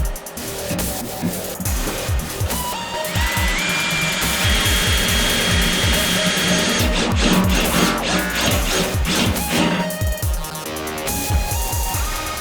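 A power drill whines loudly and continuously as it bites into metal near the fuel tank of a 1989 Chevy K1500 pickup, with grinding, rattling bursts and rising pitch sweeps throughout.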